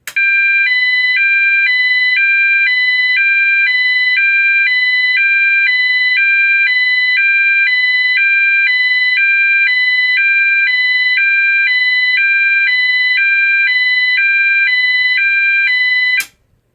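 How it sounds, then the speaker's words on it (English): A GE AS363 electronic siren sounds a loud two-tone signal, alternating between 800 and 1000 Hz at about one switch per second, steady and unbroken for roughly sixteen seconds before cutting off abruptly. "800 hertz to 1000 hertz alternating tone at 1 hertz rate"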